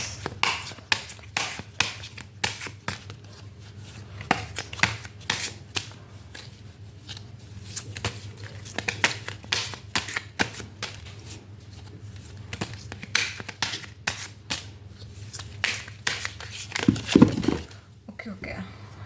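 Tarot cards shuffled and picked by hand, a steady run of soft riffling flicks and taps for most of the clip, with a low hum beneath and a brief louder clatter near the end.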